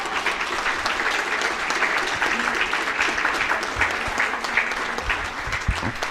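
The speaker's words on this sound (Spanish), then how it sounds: "aquí sí un aplauso para esta sociedad que se lo merece" A sustained round of audience applause, many hands clapping steadily and fairly close, with scattered louder claps and faint voices under it.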